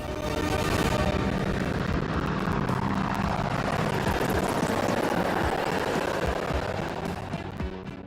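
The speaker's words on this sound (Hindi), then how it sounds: "इसमें एक लाइट कॉम्बैट हेलीकॉप्टर, 2 अपाचे और 2 एडवांस्ड लाइट हेलीकॉप्टर जोश और जुनून को चरम पर ले जाएंगे।" A formation of military helicopters, including a light combat helicopter, Apaches and advanced light helicopters, flies past during a Republic Day parade with a loud, sustained roar of engines and rotors that fades slightly at the end.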